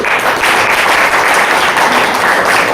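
A company-profile audience in Jaunpur keeps up vigorous, continuous applause at a loud level, with many hands clapping together in a dense, even roar throughout.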